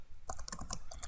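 Quick, faint clicks of a computer keyboard as a web address is typed in, a soft irregular patter of keystrokes alone at close range.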